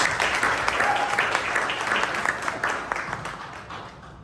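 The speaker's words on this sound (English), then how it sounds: "Let's welcome him with a round of applause" An audience at a youth conference claps to welcome a speaker to the stage, a broad, sustained round of many hands that thins and fades toward the end.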